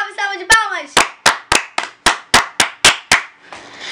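A short voice opens, then about eleven crisp hand claps follow in a quick steady rhythm, close and loud, ending in a soft murmur.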